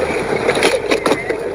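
Scooter riding over a very bumpy road with tulip fields along the way, giving a continuous rough rumbling and rattling with irregular jolts, close and fairly loud.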